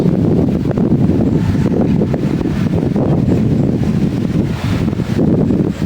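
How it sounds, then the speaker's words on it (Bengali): Strong wind buffets an outdoor microphone with a loud, continuous low roar and gusty rumbles, unbroken across the whole stretch with no talking. "বাতাস তো বাতাসে খালি শু শু শু শু করতেছে।"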